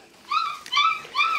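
Six-week-old red standard poodle puppies let out three short, high whimpering yips in quick succession, close and fairly loud against a quiet background.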